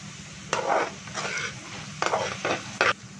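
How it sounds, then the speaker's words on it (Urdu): Vegetables with onion, salt and crushed red chili are stirred and fried in a pan, with steady sizzling and several bursts of scraping, clattering stirs spaced through the stretch. "انہیں مکس کر لیتے ہیں"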